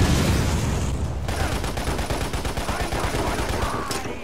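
Rapid gunfire from a futuristic shooter game set in a city warzone, sustained bursts of machine-gun fire and loud booms hammering close by for several seconds with no pauses.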